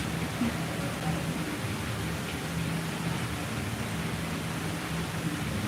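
Heavy rain at Disney Springs, heard from beneath a bridge as a dense, steady hiss of downpour with no breaks, moderately loud and continuous, with no voices.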